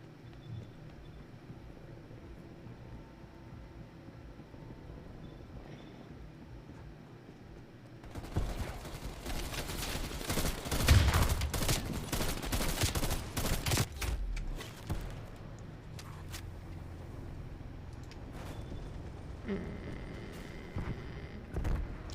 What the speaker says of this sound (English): Multiple enemy sentry turrets active.